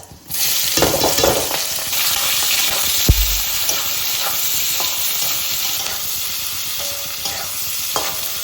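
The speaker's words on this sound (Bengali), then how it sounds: "পেঁয়াজটা লাল লাল করে ভাজা হয়ে গেছে" Chopped onions with cumin and bay leaves frying in oil, a steady loud sizzle with spoon stirring and scraping knocks throughout, no voices.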